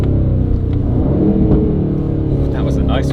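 A new Aston Martin Vantage Roadster in Sport Plus mode rumbles loudly through a downshift, its exhaust burbling low and steady beneath a person talking inside the car.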